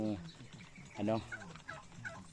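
Native hen being raised in a rural Philippine backyard, giving a few close, clear clucking calls in bursts over a faint outdoor background.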